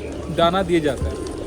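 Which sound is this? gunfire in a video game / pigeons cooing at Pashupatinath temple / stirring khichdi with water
pigeons cooing at Pashupatinath temple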